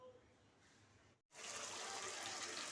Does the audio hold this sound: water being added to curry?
yes